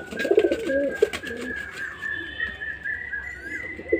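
A male Kaldum pigeon coos in short, bubbling bursts at the start and again at the end, close and clear over a steady faint whistling tone in the background.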